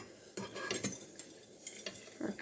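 A spoon scoops loose calming tea blend into a jar in a kitchen, with several light clinks and soft scrapes, faint and close, in irregular taps with no speech.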